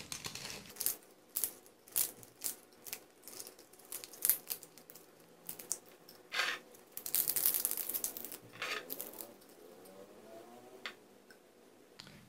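Dried bay leaves are crushed and broken by hand, giving a run of close, dry crackling and crinkling snaps in irregular bursts, with a denser stretch of crumpling midway; no voices.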